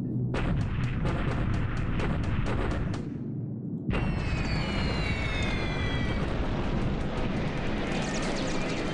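Airfield attack in the War in the Pacific strategy game, loud dense rumbling explosions and rapid gunfire bursts, a brief pause, then renewed continuous bombardment with whistling falling tones.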